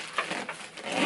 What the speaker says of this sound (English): One thing I will say about the SkipHop is kind of a pain to zip this one up